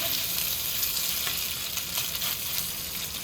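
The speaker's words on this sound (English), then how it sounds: "Beef, put it in that hot pan. Hear that sizzle going on?" Beef sizzles and fries in a hot pan, a loud, steady crackling hiss with scattered sharp pops, close and continuous with no voices.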